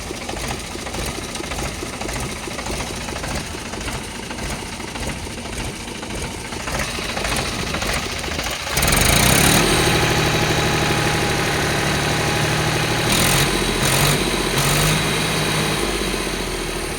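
A Mahindra tractor engine runs at a steady chug, then grows noticeably louder and rougher partway through as it revs up, continuing close by.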